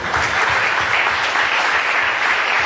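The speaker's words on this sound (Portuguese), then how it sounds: "coloquem-se em pé e aplaudam Jesus" A congregation at an evangelical church service stands and applauds, a dense, steady wash of clapping that fills the room from start to finish with no voices over it.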